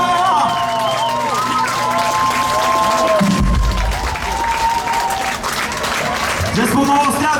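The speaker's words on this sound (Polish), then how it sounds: "Wielkie brawo!" An audience claps and cheers at an outdoor summer concert in a town market square, with dense, sustained applause mixed with musical tones and a voice over the crowd.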